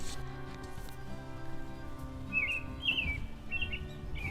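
Birds chirp in short, high bursts along a quiet seaside walking path in Busan, faint against a low steady wash of wind and surf, the calls clustering toward the end.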